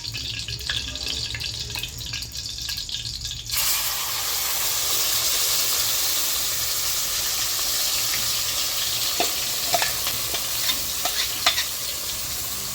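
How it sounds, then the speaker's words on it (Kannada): A ground paste of onion, tomato and poppy seed is fried in a pan for a fish curry, beginning with a sudden loud sizzle that keeps hissing steadily, with occasional stirring clicks and no voices. "ಇದನ್ನ ಚೆನ್ನಾಗಿ ಫ್ರೈ ಆಗಿಬಿಡ್ಬೇಕು ಅಂದರೆ ಒಂದು ನಿಮಿಷ ಸಣ್ಣ ಫ್ರೈ ಆಗ್ಬೇಕು"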